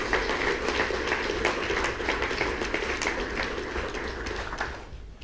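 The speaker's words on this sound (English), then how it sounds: "give a round of applause for the gentlemen" A crowd at a seminar applauds steadily for several seconds, a dense, even wash of clapping that tapers slightly at the very end.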